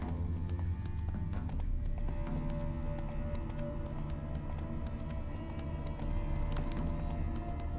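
A horse gallops in the Witcher 3: Wild Hunt video game, its hooves clip-clopping in a quick, repeated rhythm over a steady background of game ambience.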